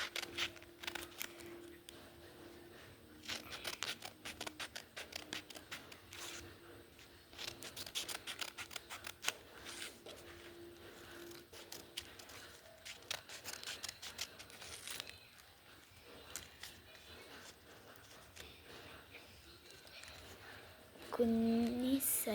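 Scissors cutting blank paper into small pieces, close by, in quick bursts of crisp snips separated by short pauses, with a faint voice-like sound near the end.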